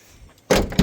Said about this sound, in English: 1975. You gotta slam the doors.